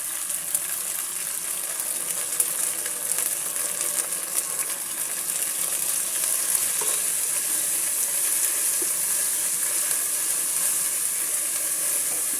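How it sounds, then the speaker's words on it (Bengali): Onions frying with a ground paste and turmeric powder in a pan give a steady, loud, close hiss of sizzling oil with faint stirring, no talk. "পেঁয়াজের সঙ্গে ভেজে নিচ্ছি। এবারে দিয়ে দেব হলুদের গুঁড়ো"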